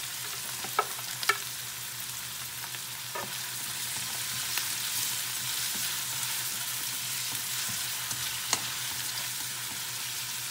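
Carrots and onions sizzle steadily in a hot pan for seafood sotanghon, a constant broadband frying hiss with a few sharp clicks and taps of stirring scattered through, close and fairly loud with no talking.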